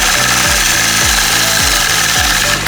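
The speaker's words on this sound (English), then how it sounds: "Now I'm going to stitch kind of an oval shape to create the outside of the pumpkin." Sewing machine free-motion quilting a pumpkin shape, loud and close, with a steady rapid stitching chatter and regular rhythmic pulses throughout, no voices.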